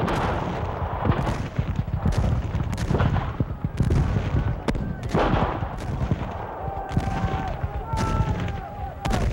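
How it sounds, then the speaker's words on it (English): Heavy Union cannon fire at dawn booms again and again at irregular intervals, loud and rumbling, with a constant roar of battle noise between the shots. "at dawn on June 3rd, Union cannon opened fire."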